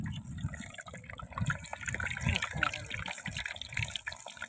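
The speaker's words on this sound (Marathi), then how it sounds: "कढईत उडतंय कसं काय होते पाणी असतंय त्यात लय लागलं उडायला" Fish fries in a wok on a wood-fired stove in a village field, with a loud, continuous, close hissing spatter of water-laden oil and a few voices underneath.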